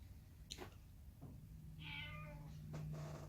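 A cat meows once, clearly and up close, amid quiet room noise and a few soft clicks.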